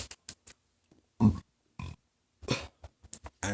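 A short, close burp stands out among soft mouth noises and brief bursts of breath, with near silence between them.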